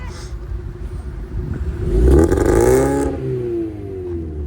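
A used car at a car market in Samarkand is revved as the gas pedal is pressed, the engine climbing in pitch through one loud surge and then easing back to a steady idle, close by.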